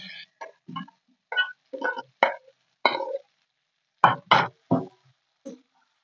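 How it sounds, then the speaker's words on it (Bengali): Peeled amla (Indian gooseberry) pieces tumble into a cooking pan in a scattered series of separate knocks and plops, each short and close, with silent gaps between them. "সেই আমলকি এর মধ্যে ঢেলে দিলাম।"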